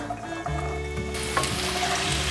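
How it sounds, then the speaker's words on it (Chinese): Pumpkin pieces sizzle and crackle in a little hot oil in a wok, a steady loud frying hiss with stirring scrapes that brightens partway through, close up and with no voices. "锅内放入少许的油，油已经热了，放入南瓜"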